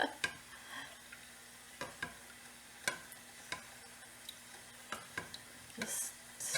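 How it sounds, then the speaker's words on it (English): Banana pudding custard being stirred in a pan set over boiling water, giving sharp, regular scraping clicks about twice a second against a quiet background, with no talking. "Just keep stirring it."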